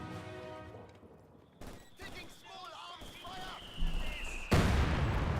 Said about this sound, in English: Avoids that mortar shot there, so retains health regen.